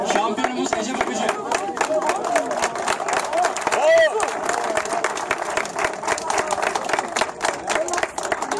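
Sustained, dense applause from an audience at a women's climbing award ceremony in Uludağ, close and continuous clapping with crowd murmur throughout.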